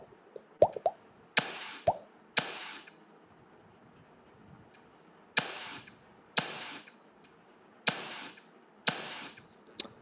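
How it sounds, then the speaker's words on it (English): A recorded matchstick sound layered into a music beat: sharp, crisp strikes with bright hissing flare tails repeat in a steady pattern of about eight hits over ten seconds, close and alone with no talking. "so that is the sound of a matchstick that is being recorded."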